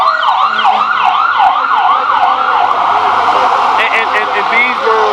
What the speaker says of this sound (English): We're going to allow the ambulance to pass.